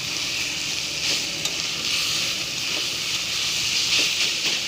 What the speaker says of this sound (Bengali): দেখুন আমার থোড় ভাজাটা হয়ে গেছে।